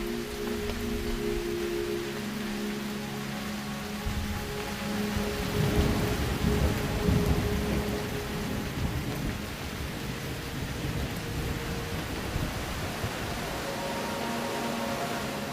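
Heavy rain pours steadily during the summer rainy season in the Ethiopian highlands, with low rumbling thunder swelling midway, a continuous dense wash of sound with no voices.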